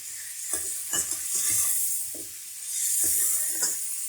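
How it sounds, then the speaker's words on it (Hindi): Mutton pieces for Shinwari karahi fry in oil with a bright, continuous sizzle that swells and fades as the meat is stirred, punctuated by soft scraping and clinks in the pan. "7 से 8 मिनट हमने इसको ऑयल के अंदर फ्राई कर लिया है"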